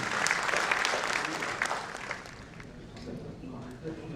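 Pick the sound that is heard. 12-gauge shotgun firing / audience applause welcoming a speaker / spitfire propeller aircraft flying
audience applause welcoming a speaker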